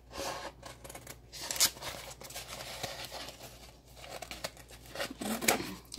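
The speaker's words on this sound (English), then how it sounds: "Cut your design off away from the sheet" Scissors or a blade cut a vinyl design with contact paper away from its sheet, producing continuous close crinkling, snipping and rustling of the plastic film with small irregular crackles.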